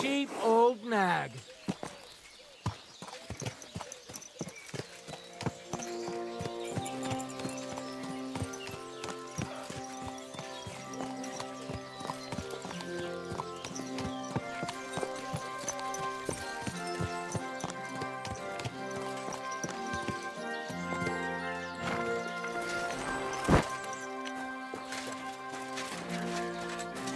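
Horse hooves clip-clop steadily through a medieval setting in Kingdom Come: Deliverance II as a rider reins in an old nag, with game music, a brief whinny and a voice calling out over the hoofbeats.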